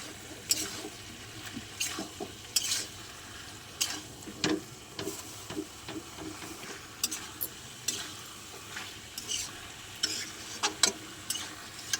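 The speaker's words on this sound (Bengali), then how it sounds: "এঁচড় আলুটা দিয়ে দিলাম, ভালো করে নেড়ে নেব।" A spatula stirs jackfruit and potato through hot spiced masala in a pan, giving close scraping clicks and knocks at an uneven rhythm over a soft, steady sizzle, with no talking.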